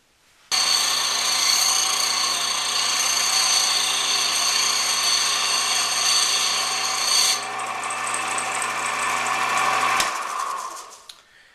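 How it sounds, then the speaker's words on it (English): A belt sander grinds steadily against a guitar nut being shaped, a loud continuous whir with abrasive rasping that changes pitch partway through as pressure shifts, then winds down at the end. "I'm going to take it back to the belt sander, and I'm going to further refine the shape"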